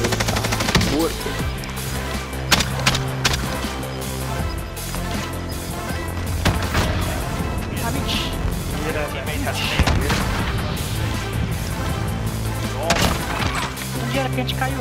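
Rapid bursts of video game gunfire from a Bruen rifle crackle repeatedly throughout, mixed with game sounds and players talking over the action.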